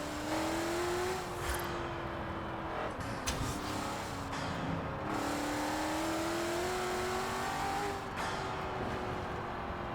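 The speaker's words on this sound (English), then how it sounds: "And the sound of the turbos." A maxed-out Shelby 1000's turbocharged engine in Forza Horizon 4 drones and revs continuously up close, pitch rising and falling as it accelerates, with no talking.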